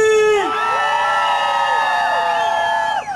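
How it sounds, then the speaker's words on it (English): A crowd of Aztecs alumni at a new barbecue area screams and cheers loudly, a sustained wall of whooping voices with rising and falling shrieks that holds for about three seconds before dipping at the end. "AZTECS in the house, let me hear you scream!"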